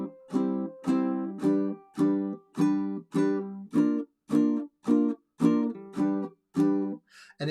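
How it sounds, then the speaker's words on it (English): Ukulele down strums played at a steady pace with no muting, about a dozen ringing chords, each sustaining until the next one, close and clear with no talking. "you can just do down strums and not worry about the mute, but it will sound like this"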